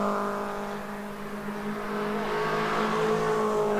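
An MG race car engine roars steadily and close at Oulton Park, its pitch dropping under hard braking into Knickerbrook then climbing again as it accelerates, with no voices.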